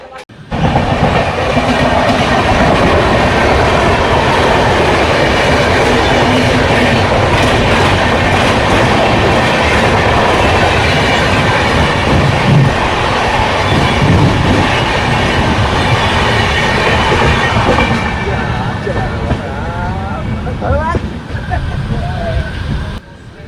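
Howrah-Balurghat Express 13063 running on the line from Malda Town toward Eklakhi Junction, a loud, steady rumble with rhythmic clickety-clack of the wheels that carries on throughout before easing near the end, with brief squealing.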